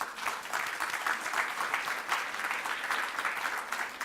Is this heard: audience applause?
yes